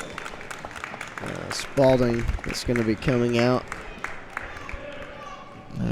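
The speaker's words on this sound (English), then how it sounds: "And some applause there from these Henderson County fans" Henderson County basketball fans applaud in a gym at a girls' game, a rising burst of clapping from the crowd under an announcer's voice.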